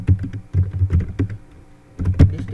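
Close, crisp computer keyboard typing as a home address is entered, irregular clusters of key clicks in short bursts with a brief pause before a final flurry.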